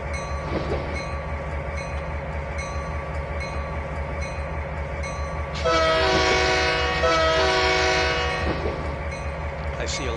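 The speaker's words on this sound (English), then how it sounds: "I'm just going to toot the horn to let people know that if they're crossing" Rumbling train noise runs throughout in the video game Trainz 2019, then a loud, chord-like train horn blasts for a few seconds with a brief break, over some speech.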